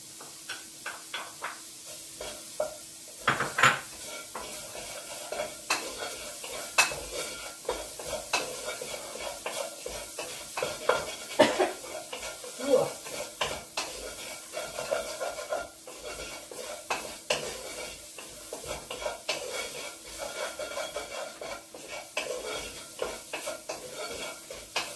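Red onion goes into a spiced beef stew in a pot, with steady sizzling and frying under repeated scraping stirs and light clanks of a utensil against the pan, and no voices.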